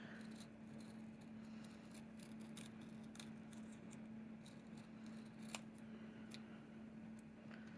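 Scissors snip thread on beaded picot edging, a run of small, faint, crisp cuts repeating close by over a steady low hum, with no voices.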